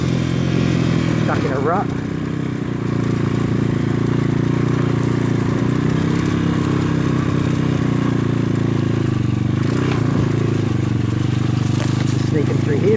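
A PitPro 140cc pit bike rides gravel trails through bamboo-lined terrain, its single-cylinder engine holding a steady, close buzzing drone throughout while someone talks over it.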